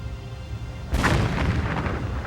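Surface-to-air missiles launched from the warship USS Vincennes in the Persian Gulf, a sudden loud booming blast with a rushing roar that carries on for over a second, with no voices.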